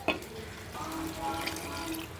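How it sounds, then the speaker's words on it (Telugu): Water is poured into a pan of simmering dried prawn curry, a short splash followed by a steady liquid pour and bubbling, moderately loud with no talking. "ఇప్పుడు వాటర్ వేసుకోవాలి"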